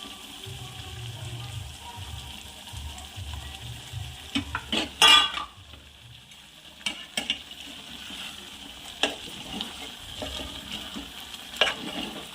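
Brinjal pieces drop into spice masala in oil over a slow flame, a low sizzle with sharp clatters and scraping stirs in a large pot, moderately loud, with no voices.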